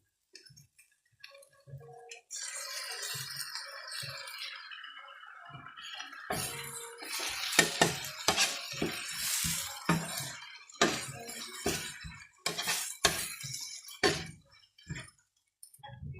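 An egg cracked and poured into a hot pan with tomato and salt while making kothu chappathi: sharp taps and clicks, then a growing sizzle with scattered crackles and stirring knocks, fairly close.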